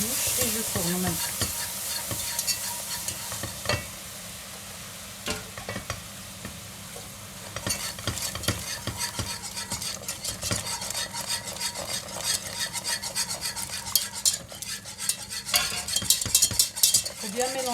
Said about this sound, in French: Bien mélanger pour ne pas avoir de grumeaux.